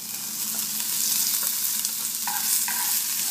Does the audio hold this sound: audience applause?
no